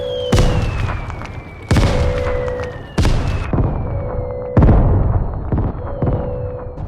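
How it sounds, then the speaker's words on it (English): Heavy booming blasts erupt in quick succession, each a loud broadband burst with a rumbling tail, layered over a steady synthetic game soundtrack hum. "Here's a quick little video of, some of that great fire explosions"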